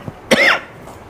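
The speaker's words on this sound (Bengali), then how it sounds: "কালকে রাইতে না খালি কাশি হইতেছে" A person with a persistent night-time cough gives a single harsh, close cough with a rough throaty burst, preceded by a faint breath, in otherwise quiet surroundings.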